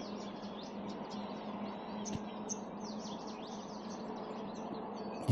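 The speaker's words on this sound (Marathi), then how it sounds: "आणि समोरच्या बाजूनसुद्धा भरपूर पक्षी जात येत आहेत" Several birds, including a sunbird, chirp and tweet in quick, scattered morning calls over a soft, steady outdoor hush, fairly distant and light.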